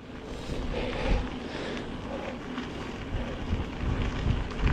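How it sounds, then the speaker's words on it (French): Wind buffets the microphone while riding a Monster gravel bike outdoors, a steady broadband rush with low rumbling gusts that swell and ease throughout, no talking. "Pour l'instant ça souffle, mais encore pas si fort qu'ils annoncent"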